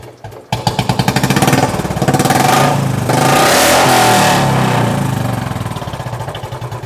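A Royal Enfield Bullet 350 motorcycle, started by hand with the crank, catches after a brief silence and settles into a loud, close thumping single-cylinder idle with a few throttle blips.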